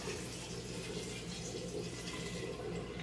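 Plain water running steadily into a pot on the stove while beans are being cooked, a continuous broadband rushing and splashing sound that stays close and even throughout, with no talking over it.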